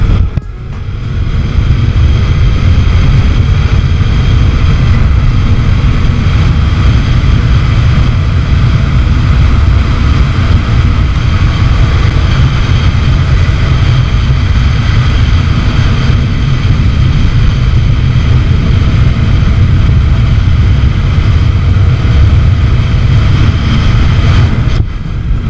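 A Kawasaki Ninja 300 motorcycle engine drones steadily under throttle while riding, heavily mixed with constant wind rush over the microphone for the whole stretch.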